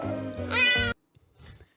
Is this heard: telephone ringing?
no